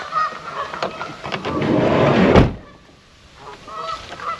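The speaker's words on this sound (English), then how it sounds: "The geese are yelling at me this morning." A goose gives a loud, close, drawn-out honk by a lake in the morning at a campsite, followed by quieter honking and surrounding ambience.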